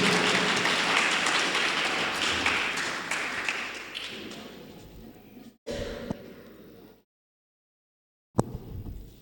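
Loud crowd applause at a road-safety awareness vehicle rally honouring ceremony, a dense sustained wash of clapping that thins out, breaks off, then returns briefly in short bursts.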